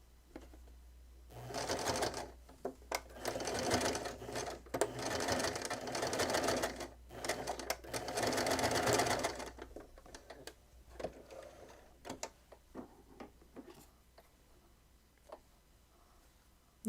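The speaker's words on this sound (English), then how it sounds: "And then you're just going to sew down that." A sewing machine stitches fabric in a fast, rattling run of about eight seconds with a few short pauses, then stops, leaving faint clicks and handling sounds.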